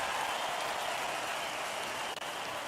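Steady, dense crowd applause in the Lego Party video game, a continuous even wash of clapping close up with no talking.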